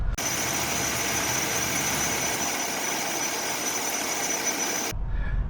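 A 1971 Ford Maverick engine runs steadily at idle, a close, constant mechanical drone that holds for about five seconds and then cuts off abruptly.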